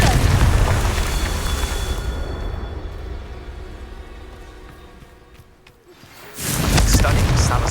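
A Confringo fire spell bursts in the Hogwarts Legacy video game, giving a loud booming blast with a long rumbling tail that fades out before a second heavy explosion hits near the end.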